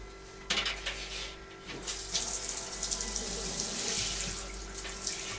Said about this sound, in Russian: самое главное, Егор, ты когда будешь вот этот душ открывать